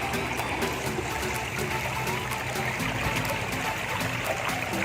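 River water trickling and babbling steadily over stones, a continuous close wash of running water with no talk.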